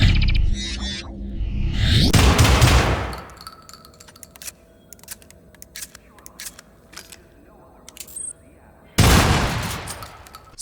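Shotgun blasts in the first-person shooter Syndicate, two loud booming shots several seconds apart with mechanical clicks and rattles of game sounds between them, while a voice talks at the start.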